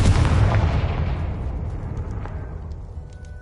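Spell explosions from the Confringo curse in Hogwarts Legacy, a heavy booming blast at the start that rolls off into a long, fading rumble with scattered crackle, no voices.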